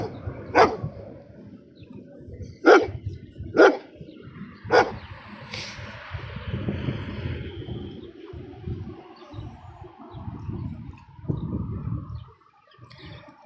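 Several dogs at a rescue bark in sharp separate bursts early on, four loud barks a second or two apart, then settle into a murmur of lower rumbling and noise.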